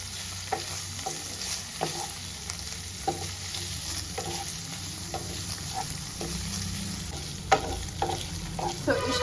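Paneer sizzles in a hot pan with butter while a spatula stirs it, giving a steady frying hiss punctuated by regular scraping strokes, close and clear with no talking.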